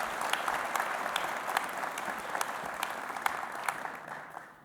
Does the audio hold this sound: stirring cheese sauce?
no